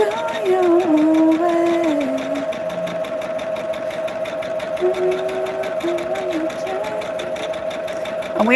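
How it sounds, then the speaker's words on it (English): A sewing machine stitches quilt pieces along a marked sew line, its fast, even mechanical hum running loud and close through the whole stretch with small shifts in pitch as the pace changes. "we are just sewing from the beginning of that line to the end of the sew line"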